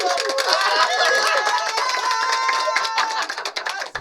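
An audience applauds a contestant, with dense clapping mixed with cheering and chatter at steady, fairly close volume, tapering off at the very end.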